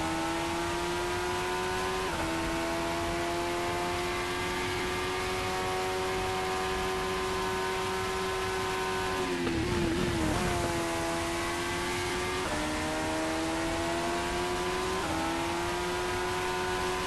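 Sim racing car on an onboard hot lap at Jerez, a loud, steady high-pitched engine whine holding up through long straights, briefly dipping and shifting around a braking zone before climbing again, with no talk.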